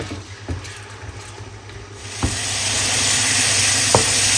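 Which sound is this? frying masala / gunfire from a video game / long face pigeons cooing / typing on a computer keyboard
frying masala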